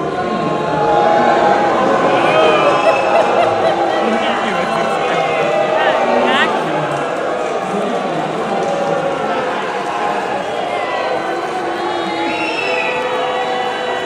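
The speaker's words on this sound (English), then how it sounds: "So we got some applause." A crowd at an outdoor protest supporting Vice President J.D. Vance cheers and claps in a continuous, loud wash of voices and applause, with shouting and chatter mixed throughout.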